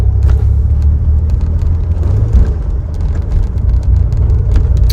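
One-owner 1981 DeLorean DMC-12 with a 5-speed driving along, a loud steady low engine and road rumble with faint light rattling over it, continuous and close.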